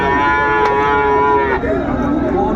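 A Sahiwal bull at a cattle market in Amabari, Dinajpur, gives one long, loud, steady moo that fills the whole stretch, its low drawn-out call close by and rich in overtones, with no speech over it.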